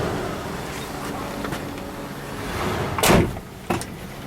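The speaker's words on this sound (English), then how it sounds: "So I'm shutting the door" A door on a 1976 Ford Ranchero slams shut with one solid thud over a steady idling engine, followed moments later by a smaller knock.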